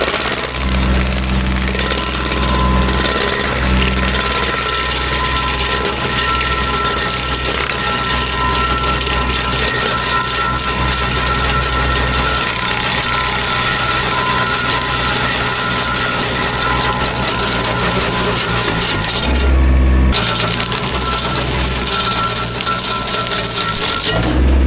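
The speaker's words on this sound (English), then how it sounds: "If you start diving straight into a stump, it's gonna get bouncy" A MECHMAXX SG24 PTO-driven stump grinder on a tractor dives straight into a wooden stump, with a loud, steady engine drone and rough, grinding chatter running throughout. A brief dip comes near the end before the grinding resumes.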